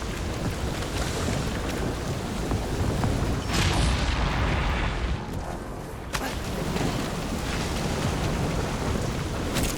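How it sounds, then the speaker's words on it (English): Howling storm wind in the video game Guardians of the Galaxy, a dense, steady roar with rumbling low gusts and rain-like hiss throughout, swelling briefly midway, with no talking. "This storm really ain't doing it for me, Quill."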